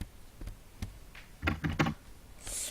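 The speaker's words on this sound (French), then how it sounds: "T'entends mon clavier ou pas?" Close keyboard typing, a scatter of single key clicks, then a short fast burst of keystrokes.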